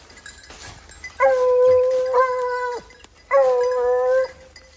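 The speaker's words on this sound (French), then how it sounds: "Les chiens ils ont trouvé une voie" Hunting dogs bay on a scent trail in French countryside, giving two long drawn-out howls with a brief pause between, fairly close and loud over quiet background.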